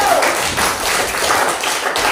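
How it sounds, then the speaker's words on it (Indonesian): Students in a classroom clap for a presenting group, a short burst of loud, close, irregular hand claps from a small number of people. "tepuk tangan dulu untuk kelompok 1"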